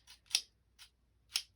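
A pair of zigzag scissors is handled up close, giving four quiet metallic snips and clicks in two uneven pairs against a silent background.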